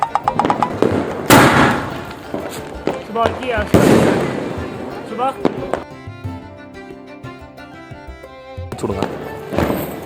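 Several sharp Diwali firecracker bangs burst out at intervals with crackling between them, while people talk nearby in the rain.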